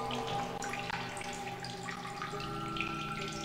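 Water running and splashing while a container is refilled in The Solus Project, a steady trickling flow with bright droplet sounds, alone and fairly quiet.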